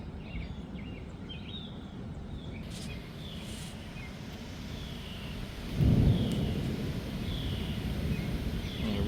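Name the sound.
thunder during a storm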